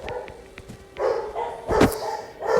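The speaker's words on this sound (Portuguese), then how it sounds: "cachorrada aí tá feia" Several dogs bark repeatedly in short irregular bursts, some sharp yips among them, from somewhere off nearby behind a home room, moderately loud and continuing throughout.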